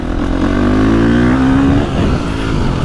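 A 2025 KTM 350XCF dirt bike revs loudly offroad in the woods, its engine note climbing steadily in pitch through a sustained pull before easing back, close and continuous with no talking.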